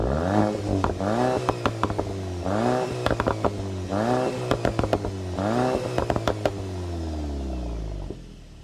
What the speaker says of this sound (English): Let's hear what she has to say when it comes to that exhaust note.